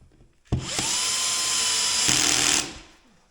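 Steady whine of a small cordless screwdriver on a low torque setting, driving a screw into a flush-mounted electrical socket, starting abruptly and running for about two seconds before stopping, close and loud with no voices.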